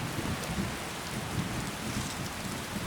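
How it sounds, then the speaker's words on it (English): Steady rain falls in Skyrim, a dense continuous hiss with a low rumbling undertone like distant thunder, even and unbroken throughout with no voices. "it's raining"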